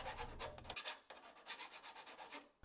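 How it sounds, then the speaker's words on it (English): A hand file rasps along the sharp corner of corrugated metal wall trim in a workshop, giving close, steady back-and-forth scraping strokes for a couple of seconds with a brief pause near the middle. "I just used a file to clean that up and smooth it out"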